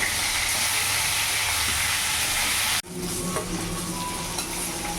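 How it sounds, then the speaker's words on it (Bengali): Silver carp pieces frying in mustard oil, a loud close crackling sizzle that drops briefly after a few seconds, then carries on with light utensil sounds, no talking. "মাছগুলো লাল করে ভেজে নিয়েছি, এবার নামিয়ে ফেলবো।"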